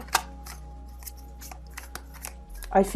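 Tarot cards are shuffled and drawn in brief, soft papery riffles and flicks close by, with a few quiet rustles and a short louder burst near the end, no talk over them.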